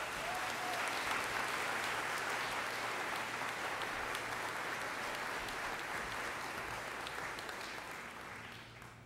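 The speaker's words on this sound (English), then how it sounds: "I'd appreciate if you all gave her a round of applause." A college commencement audience applauds in a large hall, a long steady wash of clapping heard from a distance that slowly tapers off.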